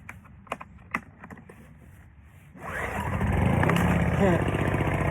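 A few clicks and faint handling sounds, then an iPower XOS2300i inverter generator catches after one pull and settles into a steady running hum.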